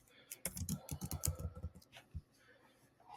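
Typing on a fitness app, a short burst of close, quick key taps over about a second and a half, followed by a couple of softer clicks with faint room sound.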